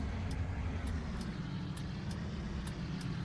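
A vehicle towing a long trailer rounds a tight corner, giving a steady low engine rumble and road noise with faint periodic ticking, continuous and moderately close, with no talk.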